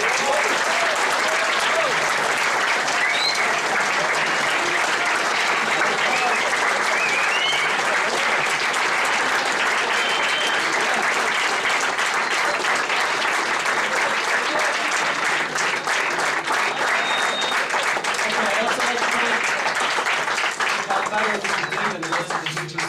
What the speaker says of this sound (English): So another big round of applause for them.